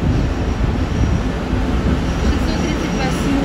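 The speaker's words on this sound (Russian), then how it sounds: "Вот стоит наш поезд." Train number 638 Adler–Rostov stands at Adler station, giving a steady, fairly loud low rumble and hum of idling rail cars and platform bustle throughout.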